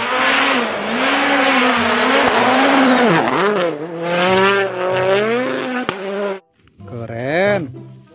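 A toy race car sound effect plays as a loud, close engine whine that revs up and down in pitch, cuts out briefly, then returns for one more rev.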